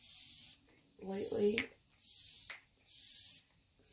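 ColourPop Pretty Fresh Hyaluronic setting spray gives three short, close, airy hissing bursts, with someone speaking briefly between them.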